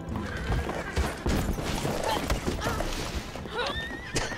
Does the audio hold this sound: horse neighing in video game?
yes